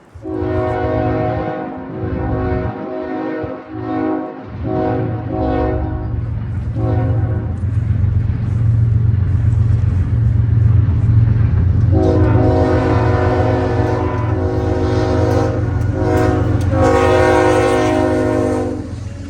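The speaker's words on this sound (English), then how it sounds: "a southbound CSX intermodal decided to test my luck" Southbound CSX intermodal freight train rolling past a crossing in Cordele, Georgia, its loud horn blaring in long blasts over the heavy rumble and clatter of railcars, close and continuous throughout.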